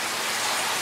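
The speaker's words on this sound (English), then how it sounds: "But you can see how the rain is coming down." Heavy rain from Hurricane Delta pours down in a dense, steady hiss that is close and unbroken, with no voices.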